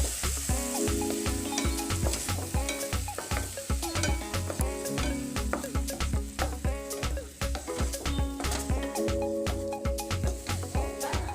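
Spice paste with tomatoes frying in oil for an Assamese boot (chickpea) breakfast dish, a constant close sizzle broken by rapid, rhythmic stirring clatters of a spoon against the pan throughout, no voices.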